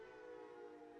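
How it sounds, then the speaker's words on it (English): A passing train at an outdoor strongman competition gives a steady tonal horn or whistle drone, faint and distant, with no talking. "Pardon the train."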